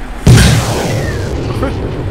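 A rifle shot fired in the Arma II DayZ mod, a single sharp boom with a ringing tail that fades over a couple of seconds, heard loud and close with faint background game ambience.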